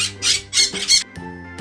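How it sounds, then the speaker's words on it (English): A parrot lets out a quick run of harsh, loud squawks, four or five bursts in under two seconds, close up with nothing else around. "P for parrot."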